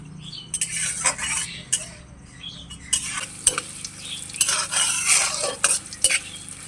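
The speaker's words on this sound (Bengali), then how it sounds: "শুকনো লঙ্কা, কিছুটা আদা, একটা তেজপাতা, জিরা, ধনে, এগুলো আমি এখন সাদা তেলে ভেজে নেব।" Dried chillies, ginger, a bay leaf, cumin, coriander, cardamom and cloves fry in white oil in a wok, a steady sizzle under frequent close scraping and clinking stirs of a utensil against the pan.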